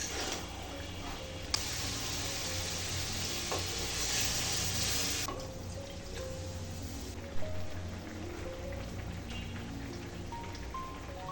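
Bottle gourd sautéing in a pan, with a continuous dense sizzle and occasional scraping stirs, close and steady, with no talking.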